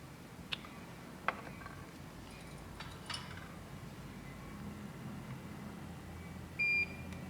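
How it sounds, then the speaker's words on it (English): A short, faint electronic beep sounds near the end during an evening circuit-board assembly session for a glitch adapter, a brief steady tone over low background hum, with a few soft ticks and clicks earlier. "Beep."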